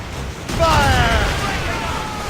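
Ship cannons firing in the naval combat of Assassin's Creed Rogue, a loud close boom that rolls into a rumbling tail, with voices shouting over the battle.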